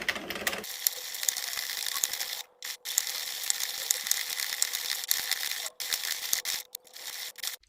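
An Addie Express/Sentro plastic circular knitting machine is cranked through rows, giving a steady rapid ratcheting clatter of needles and gears with a few brief pauses, close and fairly loud with no talking.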